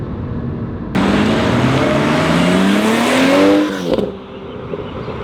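A BMW 440i M Sport in Sport Plus mode accelerates hard from inside the cabin, the engine note rising steadily in pitch through a long pull before a sudden cut as it shifts or lifts off, loud and close.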